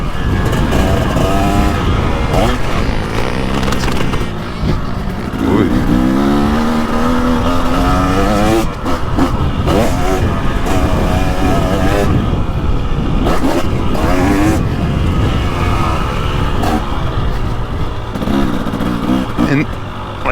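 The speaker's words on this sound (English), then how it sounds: "But one thing I can say is this engine is just amazing." A 2023 KTM 300XC two-stroke dirt bike engine under riding, revving up and down in rising and falling pitch sweeps, loud and close, with a voice talking over the engine noise for much of the time.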